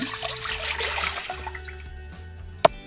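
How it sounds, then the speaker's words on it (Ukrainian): Water splashes and pours steadily into a cooking pot, about a litre, a bright rushing wash that thins out toward the end, followed by a single sharp clink. "Далі готую каструлю, додаю літр води."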